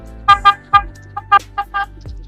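A thin horn on a 2019 Yamaha R15 sport motorcycle honks in a series of short beeps, loud and close, with a quiet engine idling underneath.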